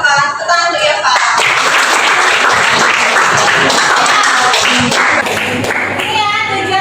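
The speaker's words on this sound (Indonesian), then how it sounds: "Tepuk tangan dulu ya Pak." A classroom gives a loud burst of clapping that fills the room throughout, with a voice audible over the applause.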